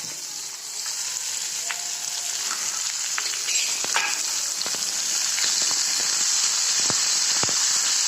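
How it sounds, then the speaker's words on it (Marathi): Chopped onion and paste frying in a pan for a red tomato, onion and garlic chutney, a steady close sizzle with occasional pops and stirring scrapes throughout. "चांगलं भाजून घ्यायचं कांदा चांगला भाजायला"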